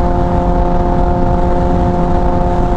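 A Kawasaki ZX14r motorcycle pulling under part throttle with its engine droning steadily, a loud, even, sustained hum with strong tonal harmonics and a constant rushing underneath.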